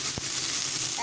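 Washed, drained bottle gourd peels frying in a pan, a brief dense hiss of sizzle with a low thump near the start, close up.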